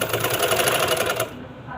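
An electric sewing machine runs in a steady, rapid stitching whir while hemming a kameez, close and loud, stopping abruptly near the end.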